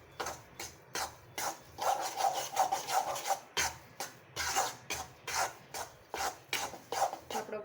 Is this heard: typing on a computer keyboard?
no